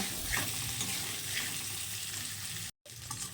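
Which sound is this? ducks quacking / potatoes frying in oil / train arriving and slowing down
potatoes frying in oil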